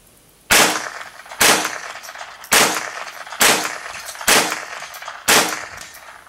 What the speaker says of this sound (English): the first thing we have here is a Ruger 1022. It's unsuppressed. We're firing just standard 22 long rifle cartridges out of it.